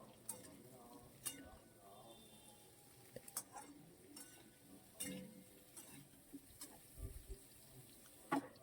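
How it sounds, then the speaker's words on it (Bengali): A spatula stirs chopped capsicum in a pan for a veg paneer dish, giving faint, scattered scrapes and clinks with light sizzling underneath. "কুচানো ক্যাপসিকামটা দিয়ে এবার আবার ভালো করে একটু নাড়বো"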